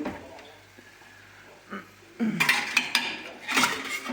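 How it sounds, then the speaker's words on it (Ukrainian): Dishes and cutlery clink and clatter close by, starting softly and growing busier, as a plate is lifted amid scattered kitchen handling noises. "Тарілку треба взяти."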